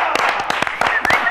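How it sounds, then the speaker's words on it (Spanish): A short burst of hand clapping for a band's appearance on a TV show, a handful of sharp, close, uneven claps over about a second and a half with some voices in the background. "un aplauso"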